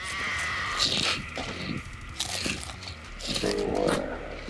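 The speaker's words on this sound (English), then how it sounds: "Crunching noise." Crisp crunching bites sound in bursts, close to the microphone, with people talking in the background around them.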